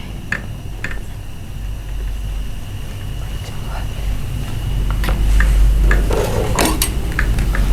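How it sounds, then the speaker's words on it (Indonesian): Food is stir-fried in a pan with light scraping and clinking of utensils against the pan, a soft sizzle beneath, and several sharp taps. People talk over it. "dioseng-oseng sambil nunggu ya"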